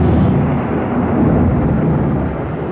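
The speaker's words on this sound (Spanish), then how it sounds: "ya escucharon ese trueno" Heavy rain pours in a loud, continuous roar while a deep, sustained thunder rumble rolls beneath it, with no voices.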